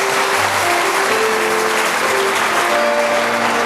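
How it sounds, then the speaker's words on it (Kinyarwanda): A church congregation claps for Lord Jesus, a dense, steady burst of applause from many hands filling the room for a few seconds without a break. "Twongere dukomera amashyi umwami Yesu"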